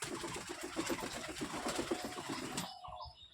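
Pigeons for sale coo in low, throaty, repeated bursts nearby, fairly quiet, ending abruptly after a few seconds.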